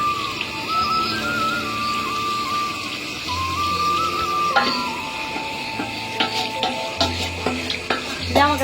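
Biryani is stirred and fried in a pan, with a spoon scraping and knocking against the metal over a steady sizzle, close and fairly loud in a home kitchen.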